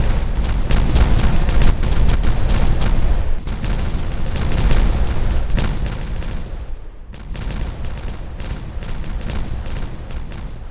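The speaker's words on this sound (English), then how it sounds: "Alright, let's go ahead and detonate this." Explosives detonating in Timberborn, a beaver city-building game, set off a dense, loud roll of overlapping booms and crackling blasts that keeps going for about ten seconds, with a short lull partway through.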